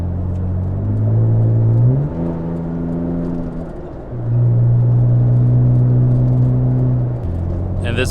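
A Toyota Tacoma truck cruising at highway speed, near 80, heard from inside the cab: a steady engine drone and road rumble that climbs in pitch as it accelerates, eases, then rises and holds again.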